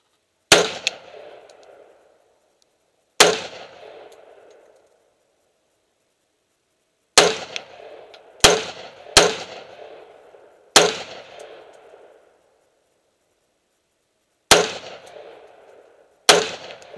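Gunshots fired at a target outdoors: eight sharp, loud single reports spaced irregularly over several seconds, each with a short decaying echo tail, and no talking between them.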